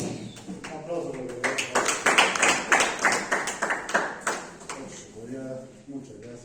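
Brief bursts of hand clapping from a small group, uneven and close, with voices talking over the clapping before and after.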